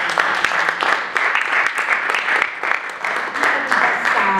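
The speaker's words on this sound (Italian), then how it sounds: "Quindi un applauso anche a voi." An audience applauds at an art exhibition opening in Salerno, a steady, dense clapping of many hands that holds throughout, with some talk mixed in.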